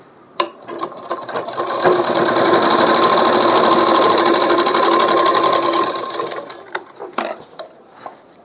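Sewing machine runs a double line of stitching along a kurti shoulder seam, a loud, close, rapid mechanical whir with a ratcheting rhythm lasting about four seconds, framed by clicks and handling noises.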